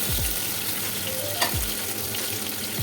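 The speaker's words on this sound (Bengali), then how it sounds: "এখন এখানে মাছের মাথা লেজাগুলো ছাড়লাম" Fish head and tail pieces fry in a pan of hot oil, giving a steady close sizzle with occasional stirring scrapes and no talk.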